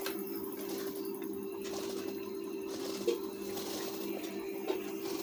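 A sewing machine runs a loose basting stitch along the border strip of a size-36 blouse, giving a steady, close motor hum with two faint clicks partway through and no talking.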